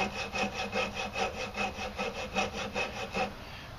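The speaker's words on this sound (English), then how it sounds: "Now I take my coping saw and I go down about 1/8 of an inch into the wood." A coping saw cuts about an eighth of an inch into wood, making a steady series of rasping back-and-forth strokes, close and clear, around a dozen even strokes with no talking.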